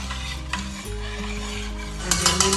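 Coconut milk and seafood stock are stirred in a 6-quart electric roaster with soft scraping and clinks from the utensil, over a humming tonal background.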